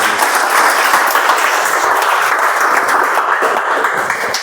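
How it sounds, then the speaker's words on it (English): A club audience gives sustained applause for the vice president at the close of a new member induction ceremony, a steady, dense roar of clapping hands filling the room with no speech. "Can we have a huge round of applause for VP?"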